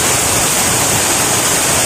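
Waterfall at Curug Bulu: a steady, loud, close roar of rushing, splashing water, continuous and unbroken throughout the short stretch.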